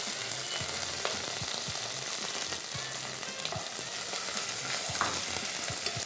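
Chopped onion and green chillies frying in a pan for pulao, a loud continuous sizzle close up with regular scraping stir strokes throughout.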